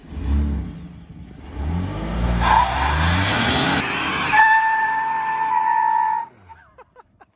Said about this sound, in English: we'll just count this as my dad doing a burnout for the challenge